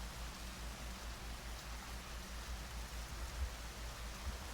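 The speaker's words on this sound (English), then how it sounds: "they did it by just removing the rain, but keeping the rain sounds" Rain sounds from the Hunt Down The Freeman video game form a steady, even hiss of falling rain with a low rumble beneath, faint and continuous without changes.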